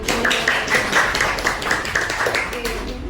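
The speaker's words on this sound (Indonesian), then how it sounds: "Beri tepuk tangan lagi untuk kelompok 4." Classroom audience clapping for a presenting group, a dense burst of hand claps close by with speech-like sounds mixed in, steady for a few seconds.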